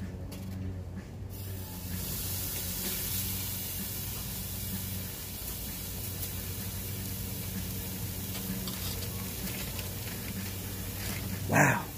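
A T-bone steak sizzles on a hot grill, a steady broad hiss of fat crackling close by that holds evenly throughout, with a brief louder flare near the end.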